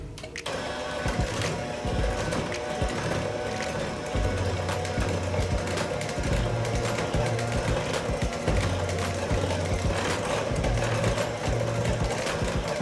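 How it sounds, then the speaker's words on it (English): An electric mixer beats chocolate cookie dough of flour and cocoa on low speed, a steady close motor whir with rhythmic pulsing as the beaters work through the thick mixture, continuous throughout. "whenever you're beating it in with your mixer that you start on a low speed"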